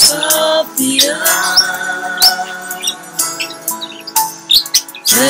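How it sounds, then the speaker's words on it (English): A pet budgie chirps and tweets close by in a rapid run of bright whistles and squeaky calls, loud and busy, with no talking over it. "You happy little budgie tonight, aren't you?"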